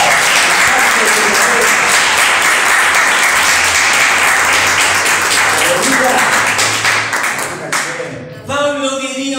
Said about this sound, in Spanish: ¿Qué tal si le damos un aplauso?